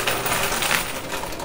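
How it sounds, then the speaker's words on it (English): Quarters pour down in a steady, dense metallic clatter inside a high-limit coin pusher arcade machine, a continuous jingling cascade that fills the whole short moment at close range. "Oh wait, we got another wave of quarters."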